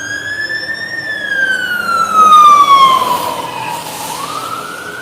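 Fire engine siren in a slow wail, the pitch rising, holding, then gliding down before climbing again, loud and near with truck rumble beneath.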